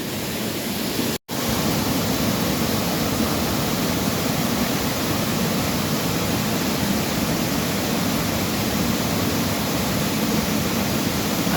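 A forest waterfall in the rainy season roars in a loud, steady wash of rushing water, broken only by a momentary dropout near the start.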